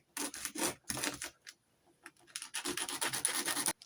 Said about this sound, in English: Just gonna sand it down and get rid of some excess material.